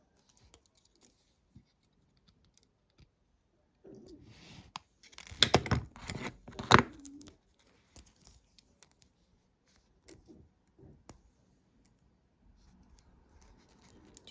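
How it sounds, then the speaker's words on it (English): Small snips and clicks sound as jewellery wire is cut for earrings, with a brief cluster of close, sharp cutting and handling noises in the middle and sparse faint ticks elsewhere. "we need to cut this wire too"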